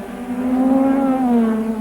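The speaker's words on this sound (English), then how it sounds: "Senna's engine sounded rough to me again there" A 1985 Formula One race car at Silverstone sweeps past with a rough, uneven engine note, loud and close, its pitch sliding down as it goes by.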